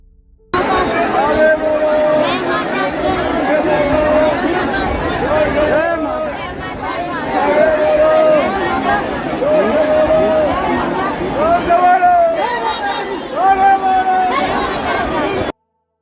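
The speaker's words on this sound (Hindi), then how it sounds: "अब आप देखिए कि मंदिर में भीड़ कितनी है और लोगों के अंदर दर्शन करने का जज्बा कितना है।" A dense crowd of pilgrims chatters continuously inside a temple in Haridwar, many overlapping voices forming a steady, loud hubbub with occasional louder calls rising above the babble.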